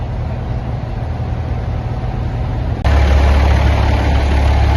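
A Fendt 930 Vario tractor at a Leeds machinery auction idles with a low, steady diesel drone, then abruptly jumps to a louder, deeper roar midway as the engine revs up.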